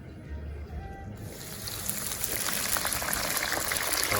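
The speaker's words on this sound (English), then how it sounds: "So we're gonna go ahead and deep fry this in the deep fryer again." Batter-coated pork drops into hot oil in a 10.5-quart aluminum deep fryer pot, and a dense, loud sizzling crackle swells and holds steady after a quieter start.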